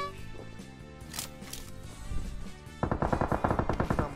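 Gunfire in PUBG Mobile, scattered distant shots at first over game sounds, then a rapid loud burst of repeated cracks near the end, with no voice over it.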